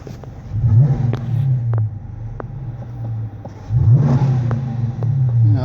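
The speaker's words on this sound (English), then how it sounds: "I'll give you guys one quick little rev for you." A 2015 Dodge Challenger R/T with its Hemi V8 idles with a low exhaust burble, then gives a quick rev that swells and settles back to idle, close and fairly loud.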